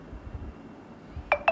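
A phone interrupts a maths lesson with two short, clear electronic tones in quick succession after a quiet stretch of low room noise.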